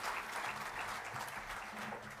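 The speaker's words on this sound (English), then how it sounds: "Round of applause, please." An audience at a school awards ceremony claps continuously for honoured learners, a dense and even round of applause at moderate volume with faint crowd murmur beneath.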